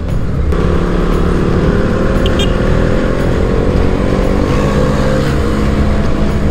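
KTM Duke 200 motorcycle engine at high revs during a test ride, a loud continuous buzzing drone with steady wind rush, held near and constant throughout with no talk.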